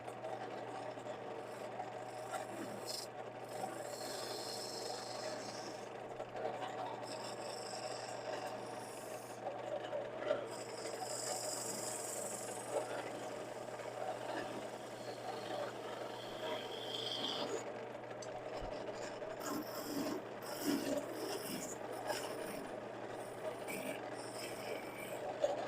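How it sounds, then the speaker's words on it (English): A 3/8 detail gouge makes light cuts in wood spinning on a lathe, giving a quiet, continuous scraping rasp over a steady motor hum, with faint rises and falls in the cutting noise and no talk. "Use the smaller 3/8 detail gouge for that."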